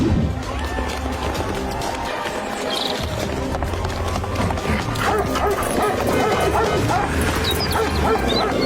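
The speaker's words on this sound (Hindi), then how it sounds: "भाई टिंकू, ये कुत्ते हमारे पीछे क्यों दौड़ रहे हैं?" Several dogs barking and yipping excitedly as they chase people near a chicken farm, close and loud, over running footsteps and other commotion.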